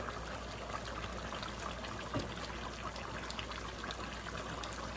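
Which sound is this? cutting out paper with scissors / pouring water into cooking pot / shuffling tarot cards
pouring water into cooking pot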